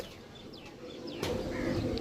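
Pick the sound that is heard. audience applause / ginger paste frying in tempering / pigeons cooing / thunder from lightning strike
pigeons cooing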